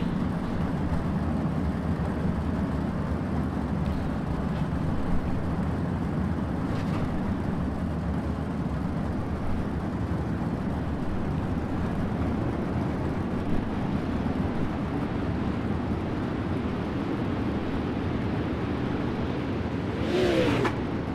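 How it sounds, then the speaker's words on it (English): Race cars roll out onto a dirt track for a B main, a steady broad engine drone filling the air at a distance with no single car standing out, plus a brief louder pass near the end. "I'll let you see all these cars coming out here."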